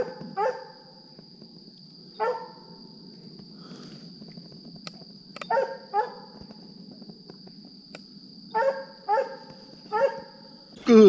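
Coonhound treeing a raccoon at night, barking in short bursts of one to three barks, moderately distant, over a constant cricket drone.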